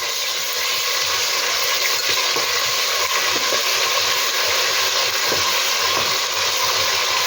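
Ginger garlic paste sizzles loudly in hot oil in a pan while chicken biryani is being cooked, giving a continuous dense hiss with occasional stirring scrapes close by.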